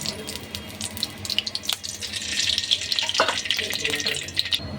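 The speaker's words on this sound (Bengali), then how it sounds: "কোয়েল পাখির ভুনা করব, তার জন্য তেল দিয়ে দিচ্ছি কড়াই" Oil for quail bhuna poured into a wok, a close splashing, sizzling wash that builds and grows louder midway, with faint clinks and no voices.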